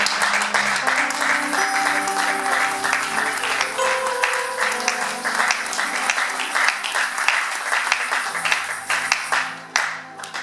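A church congregation claps and cheers loudly and continuously for several seconds, a dense wash of applause that tapers off slightly at the end.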